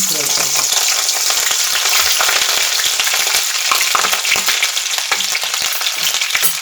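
Cumin, finely crushed ginger and green chilli fry in oil, making a loud, dense sizzle with frequent crackles and stirring clatter, close and unbroken, with no voices.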